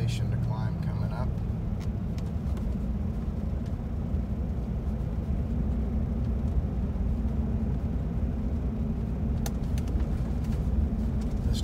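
A G4 truck on its original rear air suspension with Old Man Emu front coil springs drives and climbs a hill. Its low, steady engine and road rumble continue throughout while a person talks over it from inside the cab.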